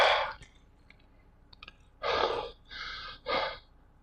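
A man imitates gasping for air with three loud, breathy rasping gasps after a few soft mouth clicks, close to the microphone.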